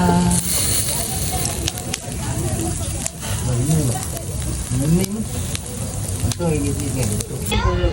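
Grilled food (sinugba) sizzles and crackles steadily over an outdoor fire, loud and close, with voices talking over it throughout.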